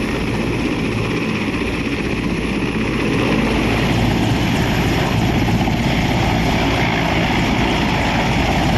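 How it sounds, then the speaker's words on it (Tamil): An Indian Air Force helicopter on a trial run over the Nellai Armed Reserve ground gives off a constant, loud rotor and engine drone that holds steady throughout, with no talking. "நெல்லை ஆயுதப்படை மைதானத்தில் ஹெலிகாப்டர் மூலம் சோதனை."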